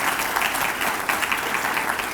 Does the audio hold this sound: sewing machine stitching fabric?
no